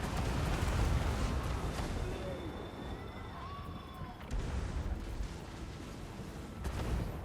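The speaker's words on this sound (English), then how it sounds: "the magma cannons are flame cannons, and flame cannons are very good at killing" Magma flame cannons firing in a large Total War: Warhammer 2 battle, a continuous roaring rumble with bursts and crackles, loud and dense throughout with a brief lull midway.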